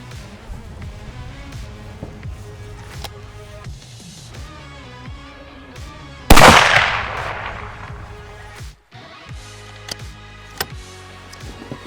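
Hunting rifle fired at a 200-yard target: one loud, sharp shot with a long decaying tail, set amid background music rather than a string of shots.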